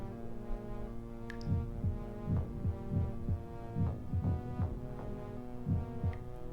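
Heartbeat sound effect from a video game, a low throbbing lub-dub repeating steadily in paired thumps over a humming drone, with no talk.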